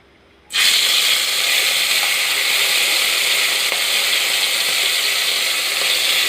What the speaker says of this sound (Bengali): তেলটা গরম হয়ে গেছে। এবারে আমরা এর মধ্যে এক এক করে চিংড়ি মাছগুলো দিয়ে